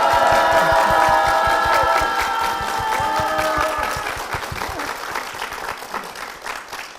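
A church congregation gives a big round of applause, loud rhythmic clapping in unison with crowd cheering and a sustained vocal tone at first, thinning into looser clapping toward the end.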